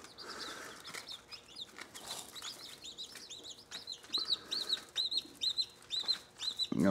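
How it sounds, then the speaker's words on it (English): High, thin peeping of baby chickens, repeated rapidly in short chirps, growing clearer and louder toward the end over a soft background hum. "We got us little chickens."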